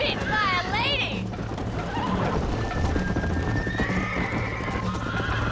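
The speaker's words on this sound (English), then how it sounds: "I think you chose the wrong horse, Miss McFarland." A horse in Red Dead Redemption neighs loudly with a rising whinny over galloping hoofbeats, with game-like effects and a faint musical tone in the background.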